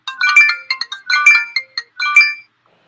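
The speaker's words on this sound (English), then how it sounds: "Got a phone call." A phone ringtone sounds for an incoming call, a bright chiming melody in repeated bursts, loud and close with no talking over it, then stopping.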